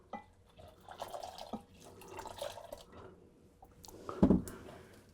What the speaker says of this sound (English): I'm going to pour the hot water in here.